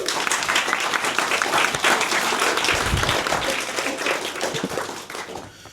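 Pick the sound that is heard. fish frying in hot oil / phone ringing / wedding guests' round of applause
wedding guests' round of applause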